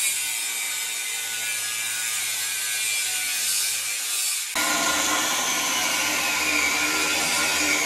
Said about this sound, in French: Comme vous l'entendez, on est en train de découper une partie de l'échappement d'origine